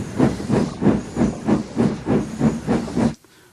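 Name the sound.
steam locomotive hissing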